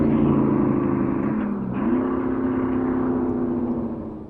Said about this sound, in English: Joe Littlejohn's Pontiac begins a two-way run.